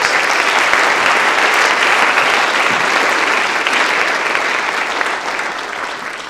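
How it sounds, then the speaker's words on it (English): A school winter concert audience gives sustained, loud applause for the behind-the-scenes staff, a thick, even roar of many hands that holds steady and eases slightly at the end. "A round of applause for our behind-the-scenes folks."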